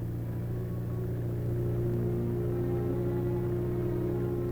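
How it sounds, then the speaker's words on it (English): A tank recovery vehicle hauls a repaired tank along a paved autobahn, giving off a steady, heavy low engine drone that rumbles on without a break. "the recovery vehicle trundles the repaired tank back home"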